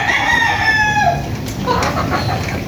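Native game-farm chickens and roosters on a farm in Pampanga crow loudly and cluck nearby, with long overlapping calls filling the whole stretch.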